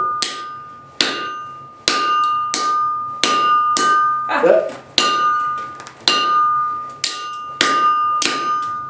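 Regular, ringing hammer blows on hot steel land about once a second, each bright strike decaying with a clear tone, while a person briefly speaks midway.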